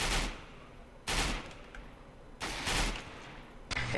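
Gunfire in the video game CS:GO comes in loud bursts of rapid automatic fire, roughly four volleys separated by short pauses, with no talk over it.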